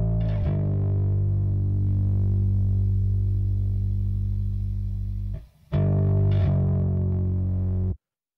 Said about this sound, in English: Get some distortion going on if you overcompress a hell of a lot.